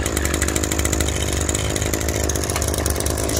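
An Echo PE-2620 gas edger idles after starting, its small two-stroke engine giving a steady, loud, buzzy drone close by with no talking.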